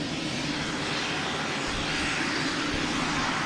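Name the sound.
Boutique Air plane arriving at Boston Logan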